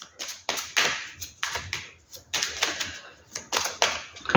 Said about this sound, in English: Too many cards. Let's keep shuffling.